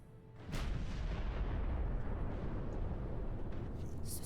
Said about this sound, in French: Ce satané canon.